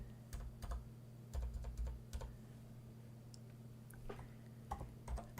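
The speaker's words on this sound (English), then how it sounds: "Okay, let's start to type that equation." Typing an equation on a computer keyboard in the Emacs editor, with scattered quiet key clicks in short bursts and pauses over a steady low electrical hum, and no voice.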